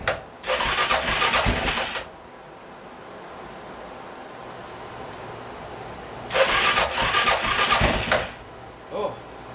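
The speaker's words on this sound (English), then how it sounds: "see if this thing will fire up for the first time" A blown-up Arctic Cat 500 4x4 ATV engine cranking twice, with two loud close grinding bursts of a couple of seconds each, separated by a quieter stretch, then a brief short sound at the end.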